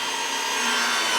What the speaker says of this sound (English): 3 power tools at once, 2 major power tools, the chop saw